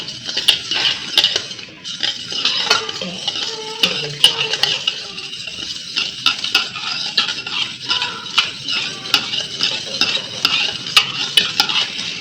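A spoon stirs and mixes thick cream for cocktail cream chaat in a bowl, producing repeated scraping and clinking strokes in an irregular rhythm, close and fairly loud with no talking.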